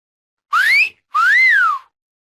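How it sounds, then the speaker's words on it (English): Two clear whistled notes, the first rising and the second arching up then sliding down, with a short pause between them. "Whistle."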